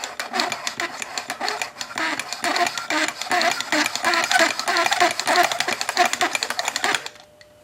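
A steady mechanical whirring and rapid clattering from a running machine, rhythmic and close, continuing for several seconds before stopping abruptly.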